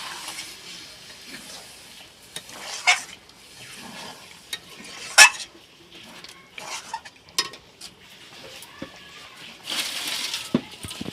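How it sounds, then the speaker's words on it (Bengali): Chicken kosha cooks in a pan with a little water added, giving a soft bubbling sizzle broken by intermittent metallic clinks of a spoon stirring against the pan. "এক বাটি জল দেব বেশি জল দেব না দিয়ে একটুখানি ফুটিয়ে আমি নামিয়ে নেব এই চিকেন কষাটা"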